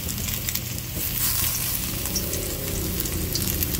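Garlic sautéing in a pan, a loud dense continuous sizzle close up with no talk.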